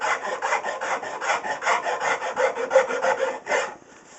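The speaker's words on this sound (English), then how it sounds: "you can of course then finish with a little finer rasp file" A finer wood rasp works the wooden neck of a cigar box guitar, giving a close, steady run of rhythmic scraping strokes with no talk, ending in a short pause.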